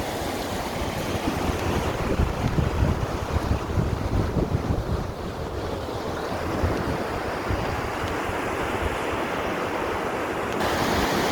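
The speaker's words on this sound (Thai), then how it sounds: "โอ้ยแรงมากน้ำไหลแรงมาก" Strong rushing river water in John Forrest National Park, Perth, Australia, roars steadily and loudly throughout, a dense continuous wash with wind buffeting the microphone.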